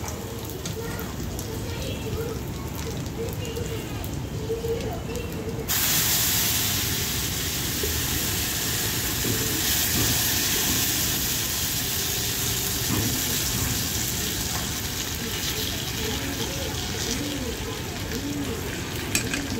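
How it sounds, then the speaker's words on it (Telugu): Boiled rasam goes into a hot garlic tempering in a home kitchen, bringing a sudden loud sizzle and hiss that keeps bubbling steadily for a long stretch, with faint stirring and background noise. "ఇలా పోపు అయితే రెడీ చేసుకొని మరిగించుకున్న చారుని అయితే వేసుకున్నానండి"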